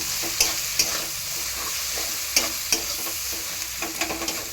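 Ground mustard and poppy seed paste with turmeric and chilli powder sizzling in a pan, with steady frying hiss and several sharp scraping strokes of a spoon stirring it, close and clear.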